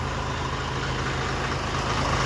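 A truck engine idles steadily at a roadside stop in Kalibo, Aklan, with a loud, constant low rumble and no other sounds.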